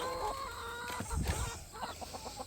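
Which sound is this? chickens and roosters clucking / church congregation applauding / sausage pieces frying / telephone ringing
chickens and roosters clucking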